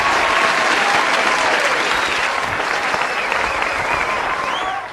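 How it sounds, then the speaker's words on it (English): Enthusiastic audience applause during a live online class, dense clapping at full strength that tapers off near the end. "give yourself a round of applause"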